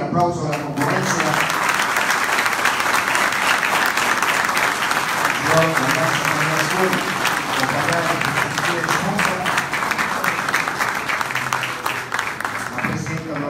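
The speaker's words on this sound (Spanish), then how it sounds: "Y el aplauso de la concurrencia." Sustained audience applause at a Mexican Red Cross 2019 national fundraising ceremony in Progreso, steady and full for over thirteen seconds, with voices mixed in among the clapping crowd.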